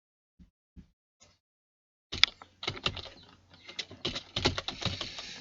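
A few isolated clicks are followed by bursts of typing on a computer keyboard, rapid close keystrokes in uneven clusters with short pauses between them.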